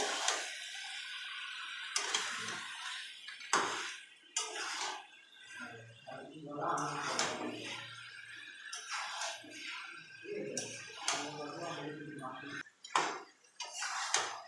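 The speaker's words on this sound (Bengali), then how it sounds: "এবার মাংসটা মেখে নেব খুন্তি দিয়ে। নাড়াচাড়া করে নিতে থাকবো এমনভাবে।" A metal spatula scrapes and clinks against a pan while chicken meat cooked with apple is stirred, giving irregular close taps and rattles beneath a voice.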